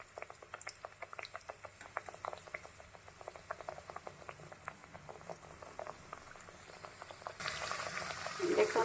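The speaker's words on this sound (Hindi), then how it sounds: "एबे मु पकेई दउछि गोटे गोटे" Gujiya go one by one into hot oil, setting off a busy bubbling crackle of many small pops that swells into a louder, denser sizzle toward the end.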